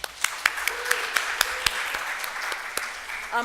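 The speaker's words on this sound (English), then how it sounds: "yes, round of applause" Audience applause at a startup pitch day event, moderate clapping from a crowd with several sharper individual claps standing out over a steady patter, fading toward the end.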